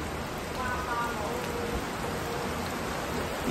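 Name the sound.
rain falling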